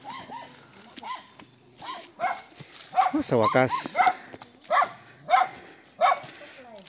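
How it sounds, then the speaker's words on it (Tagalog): Several dogs at a rural house among coconut palms give short, repeated barks and yips, some near and loud. People talk throughout. "Maraming mga aso."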